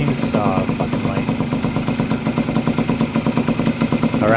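A Honda MB5 moped engine idles steadily right after a carburetor clean with a cleared pilot jet, a close, even putter with rapid regular firing pulses and light mechanical clatter running throughout.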